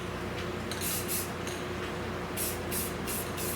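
A spray gun lays a darker colored finish onto metal in short repeated bursts, a steady airy hiss with pulsing trigger pulls, close and even.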